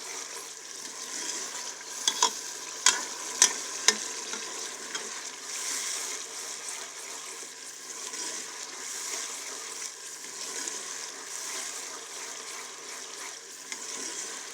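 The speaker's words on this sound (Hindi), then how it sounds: "टमाटर ग्रेवी हमारी अच्छे से यहाँ पे फ्राई हो रही है।" Tomato gravy for a restaurant-style daal lobia frying in a pan, a continuous soft sizzle with a few sharp spoon clinks against the pan early on, then an even bubbling hiss.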